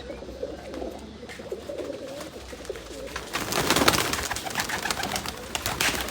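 Pigeons coo softly and repeatedly nearby, then a louder rustling, flapping noise rises and masks them.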